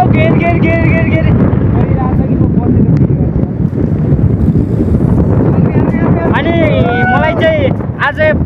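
Wind buffets the microphone in a steady roar at a scenic spot in Myagdi, Nepal, persisting for the whole span beneath continuous talking.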